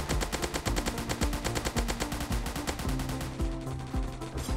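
Rapid automatic gunfire in a zombie attack video game, dense repeated shots in fast bursts with short pauses, loud and close with no talking.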